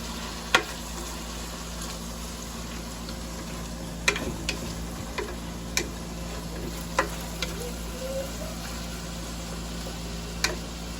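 Shrimp sizzling in a pan after going in with sautéed mung beans, a steady low frying hiss broken by occasional light ticks and clinks.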